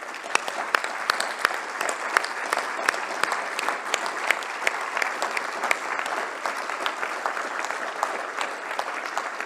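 Steady applause from the audience at a closing speech of a business forum, many hands clapping evenly with a few sharper individual claps standing out, sustained throughout.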